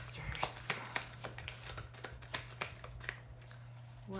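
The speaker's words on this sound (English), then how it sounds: "that wasn't a very good shuffle" Close, soft riffling of tarot cards being shuffled in quick flicks over a low steady hum, with faint murmuring underneath.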